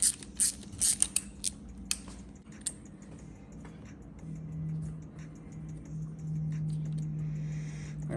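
Sharp metallic clicks of a wrench working a little 8mm nut loose on a Kawasaki KX100 dirt bike, several quick ticks up close at first, then a quieter steady hum underneath.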